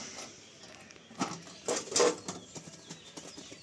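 A pigeon flaps its wings nearby in a few short, fluttering bursts of wingbeats against a quiet background, with light pattering between them.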